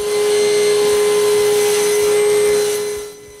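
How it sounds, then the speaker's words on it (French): A loud wood jointer whirs steadily with a strong motor hum and rhythmic knocking underneath, then winds down at the end. "je mets un bout d'équerre avec la dégauchisseuse"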